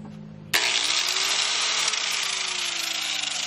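An electric grinder powered by a generator spins up abruptly from a low engine hum into a loud, steady high whine that holds for several seconds, close and alone.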